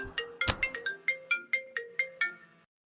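A mobile phone ringtone plays a quick series of bright electronic beeps in an even rhythm, loud and close, then stops abruptly.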